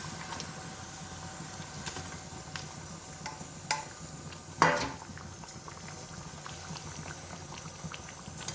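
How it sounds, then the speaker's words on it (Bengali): Pieces of fish and eggplant dropped into a simmering spice mixture in a cooking pot, with a constant bubbling simmer and one brief splash and clatter as they go in. "এবার আমি মাছ আর বেগুন একসঙ্গে দিয়ে দেবো এর মধ্যে।"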